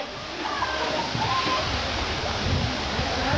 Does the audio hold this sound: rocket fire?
no